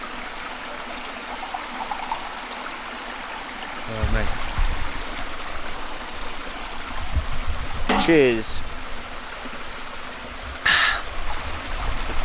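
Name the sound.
jungle stream flowing strongly after rain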